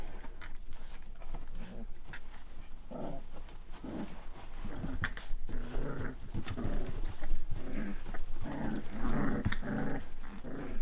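Rottweiler puppies growl and squabble as they play-fight, producing overlapping low grumbles, yips and rough snarls that run continuously at close range without any speech.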